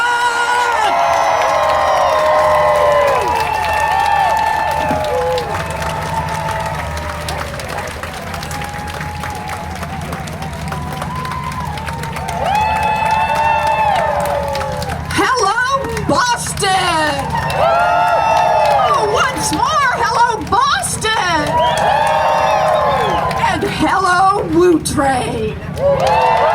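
Rally crowd for Senator Elizabeth Warren applauding and cheering loudly for the whole stretch, with whoops, shouts and chanting voices rising over steady clapping, swelling again near the end.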